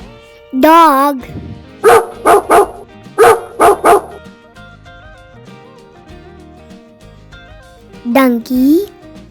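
Dog barking in quick bursts of two and three sharp barks, loud and near, between a voice at the start and another at the end over soft background music.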